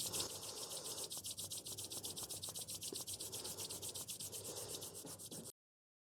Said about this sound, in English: bring the palms together and rub them quickly together to build that heat